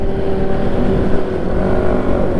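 Motorcycles, Ninja sport bikes and Vario scooters among them, roll past on a Sunday morning group ride around Gelora Bung Karno stadium in Jakarta, a steady continuous engine drone close by with no pauses.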